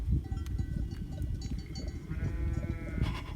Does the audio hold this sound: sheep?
yes